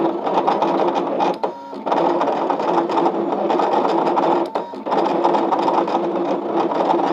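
A Brother ScanNCut cutting machine runs steadily as it cuts out a shape, giving a continuous close mechanical whir with two brief dips partway through, and no talking.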